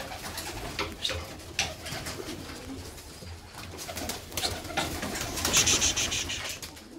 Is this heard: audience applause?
no